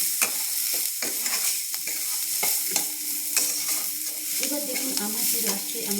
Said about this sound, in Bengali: এবার দেখুন আমি পুরটাকে ধনে পাতা দিয়ে মেরে আমি ফিনিশ করে নেব